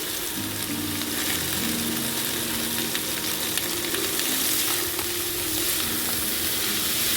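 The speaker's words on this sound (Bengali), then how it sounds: "এর সাথে আমি পটলগুলো দিয়ে দেবো, পটলও একসাথে ভেজে নেব।" Pointed gourd pieces salted and frying in hot oil in a pan give a steady, dense sizzle with scraping stirs throughout, close and loud with no talking.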